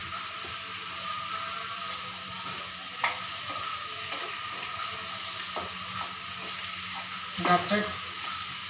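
Vegetable curry ingredients being stirred in a pan, with a steady sizzling hiss and occasional scraping clatters of the spoon, one louder burst of scraping near the end, while a person briefly speaks.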